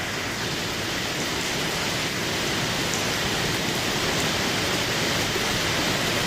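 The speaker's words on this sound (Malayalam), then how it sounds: "നല്ല മഴ പെയ്യുണ്ട്" Heavy rain pouring down, a dense, steady roar of water with no break, loud and enveloping.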